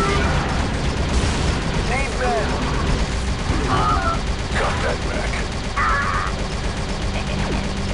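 Heavy machine gun fire in the shooter Star Wars Republic Commando: sustained rapid bursts under a thick battle din with other weapons and blasts, while someone talks over it.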